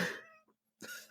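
A house cat lets out two close, loud meows separated by a brief quiet gap, clear in an indoor room with no talking.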